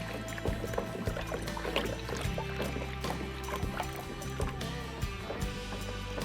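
Freshly pulled home-grown carrots are swished and rinsed in a bucket of water, giving close, continuous sloshing and splashing with small drips and knocks against the bucket.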